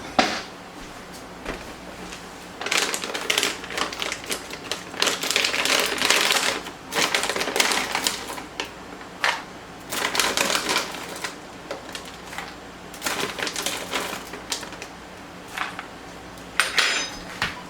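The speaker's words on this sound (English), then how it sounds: "So I am going to use a spoon to actually get the almonds out." A metal spoon scrapes and clatters against a container while scooping almonds, producing a long run of quick irregular clicks and rattles, close and fairly loud, with brief pauses between scoops.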